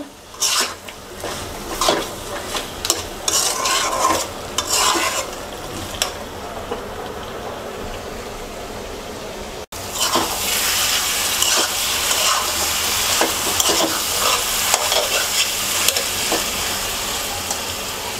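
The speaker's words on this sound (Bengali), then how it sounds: "এবার আমরা আচারটাকে আরও 5 মিনিট অল্প আঁচে রান্না করব" Hog plum (amra) pickle cooks on low heat, giving a soft steady sizzle and bubbling hiss. Scattered scrapes and clicks from stirring come through, and after a brief break the sizzle returns a little louder.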